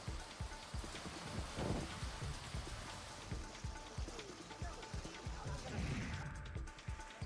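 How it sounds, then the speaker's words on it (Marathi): Unseasonal rain falls over Nashik city, a steady wash of drops striking surfaces with scattered heavier spatters and thuds, moderately loud and continuous throughout with no voices. "नाशिक शहरात अवकाळी पावसाला सुरुवात झाली आहे"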